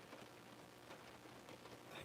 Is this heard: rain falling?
yes